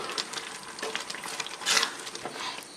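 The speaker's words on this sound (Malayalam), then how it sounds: "ഞാനിതൊരു 10 മിനിറ്റോളം വഴറ്റിയായിരുന്നു." Grated coconut being stirred and sautéed in jaggery syrup in a pan for aval vilayichathu, with soft sizzling and repeated scraping stir strokes, fairly close and steady, one louder scrape near the middle.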